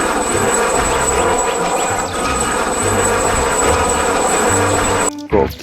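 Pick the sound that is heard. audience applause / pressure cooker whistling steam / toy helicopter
toy helicopter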